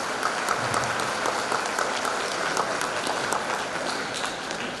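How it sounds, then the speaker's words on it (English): An audience at a dance studio recital gives the parents a round of applause, steady and fairly distant, a thick patter of many hands continuing throughout without voices. "So let's give them a round of applause."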